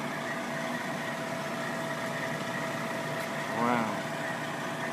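A fire engine idles at night while firemen flush its pump at a hydrant, giving a steady, loud, droning hum throughout with a brief tonal swell near the end.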